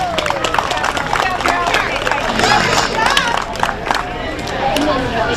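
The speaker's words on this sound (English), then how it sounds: "Let's give them all a big nice round of applause." Audience applauding and clapping at a junior livestock show, a dense, steady wash of many hands with crowd babble underneath, sustained and close throughout.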